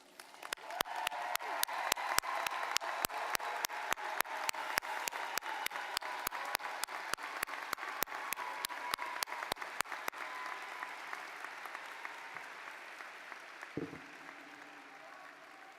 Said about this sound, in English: I think this class deserves one more round of applause.